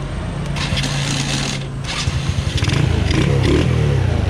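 A Rusi MP 100 motorcycle engine fitted with a 54 mm piston kit and big valve starts up and idles close by, a loud, rapid, steady chugging that grows stronger toward the end, with some scraping handling noise at first.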